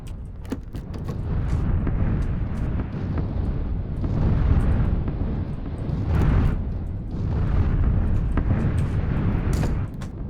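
Rolling, booming explosions in a video game rumble continuously in waves, loud and heavy, with bursts swelling and fading over a sustained low roar.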